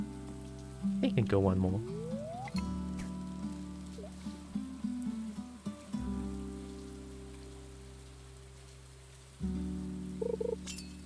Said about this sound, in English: The rain sound is perfect for this music as well.